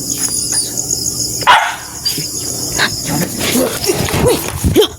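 A dog barks several times at night in a rural setting, the barks rough and moderately near over a steady bed of insect and cricket chirping, with no talking.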